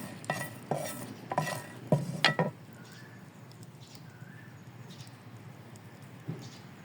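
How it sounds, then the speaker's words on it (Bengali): Chopped garlic stir-fried in a pan: several loud scraping stirs of a spatula in the first few seconds, then a quieter low sizzle with faint occasional scrapes. "এখন ভালো করে নেড়েচেড়ে নিব, ভালো করে এগুলো ভেজে নিব।"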